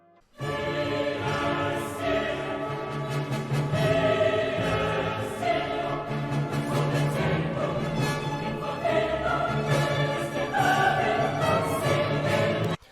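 Big, epic choral classical music, a sample played back in FL Studio, fills the whole stretch as one dense, continuous wall of voices and orchestra at steady loudness, with no talking over it.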